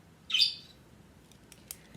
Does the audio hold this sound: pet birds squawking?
yes